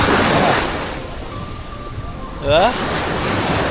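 Ocean surf washes steadily on the shore at Ilig-Iligan Beach in Boracay, a loud continuous roar mixed with wind rumble on the microphone. A person speaks a single brief word.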